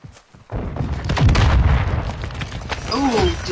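A rocket launcher blast in a shooter video game erupts suddenly into a loud, sustained booming rumble that carries on for several seconds, with faint voices mixed in.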